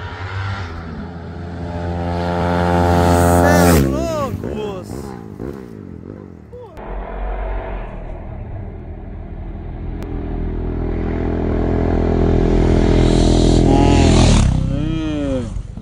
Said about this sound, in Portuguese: Tá vindo as duas motos, ó.